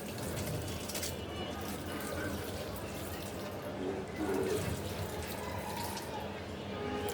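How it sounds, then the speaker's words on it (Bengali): Water splashes steadily onto a jasmine plant in a home garden during morning watering, a continuous close pouring and trickling sound with no clear pauses. "এটাকে পানি দেওয়া শেষ হলে আমি দেবো এখন বেলি ফুল গাছকে।"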